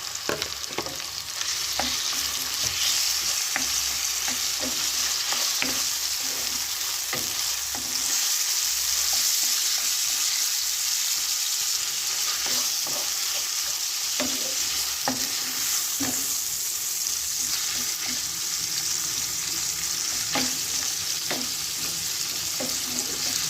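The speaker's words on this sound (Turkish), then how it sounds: "Bu da güzelce kavrulsun." Chicken, mushrooms and meatballs sauté in a hot pan, giving a steady, loud sizzle and frying crackle throughout, with frequent scraping stirs and no talking.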